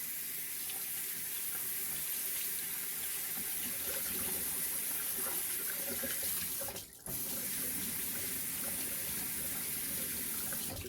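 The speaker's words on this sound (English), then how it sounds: "I'm just gonna run some hot water over them just to get some of this ice and whatnot off of it." Steady hot tap water runs over frozen food in a sink, splashing continuously, close and fairly loud, with a brief dip near the end; no talking.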